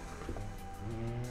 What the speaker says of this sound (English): a little flick of the throttle at low RPM just raises the front wheel up